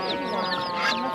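Chicks and other poultry for sale at the Pir bazaar in Shovot, Khorezm, chirping and peeping together in a dense, continuous, fairly close chorus of overlapping high calls.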